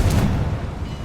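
Confringo spell explosion in the video game Hogwarts Legacy: a single loud, low boom with a short rumbling tail, close and heard alone.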